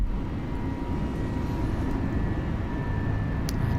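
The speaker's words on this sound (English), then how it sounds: "A nice straightforward takeoff." An airliner rolls for takeoff with a loud, steady, broadband engine roar heard from inside, holding at an even level throughout with no talking.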